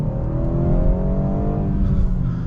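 BMW 230i with a 2-liter twin-scroll turbocharged four-cylinder pulls hard, engine note rising steadily and loud from inside the cabin, no talk over it.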